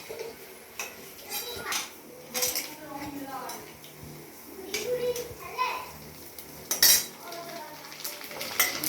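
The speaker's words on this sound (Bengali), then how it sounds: "এই যে ফুচকাগুলো ভাজছি" Store-bought fuchka shells fry in oil with a soft sizzle and stirring clinks, while children's voices chatter and play nearby throughout.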